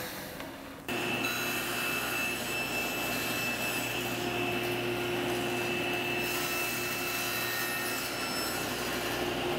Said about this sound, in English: I'm gonna hold the piece down as I slide the miter gauge across and make my cut